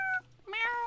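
Two cartoonish meows from a cat in the video game Pixelia, a short bright call followed by a longer rising one, loud and close with no talking.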